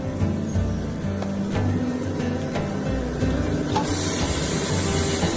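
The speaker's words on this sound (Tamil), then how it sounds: "இப்போ மேரினேட் பண்ணி வச்சிருக்க சிக்கனை சேர்த்துக்கலாம்." Marinated chicken sizzles and sautés in a pan of cooked-down masala for chicken biryani, a steady close hiss broken by scraping stirs and occasional spoon knocks.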